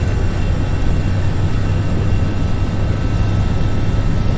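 Simulated Airbus A320 jet engines roar at takeoff thrust on a flight simulator departing Birmingham, a loud, steady broadband rumble throughout with no talk.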